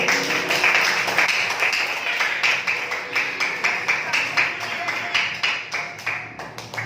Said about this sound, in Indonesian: Mari tepuk tangan buat Tuhan kita.